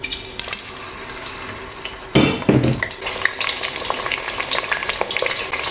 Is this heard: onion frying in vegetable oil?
yes